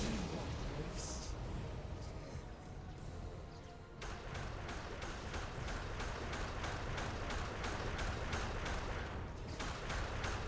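Rapid bursts of lasgun fire from cultists in a sci-fi trench-warfare video game, a dense rattle of repeated shots that turns into a steady rhythmic volley midway, loud and close over a noisy battlefield bed.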